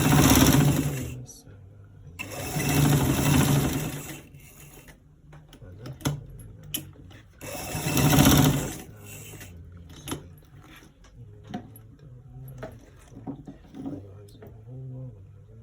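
A sewing machine runs in bursts while stitching a stripe along the side of trousers, loud rattling runs separated by pauses and small clicks of fabric handling, with a voice talking at times.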